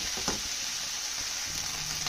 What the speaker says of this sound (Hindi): इसको फ्राई करते जाना है।